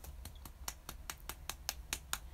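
A single person claps hands about a dozen times in quick, steady succession, faint and fairly close, with soft room noise between claps.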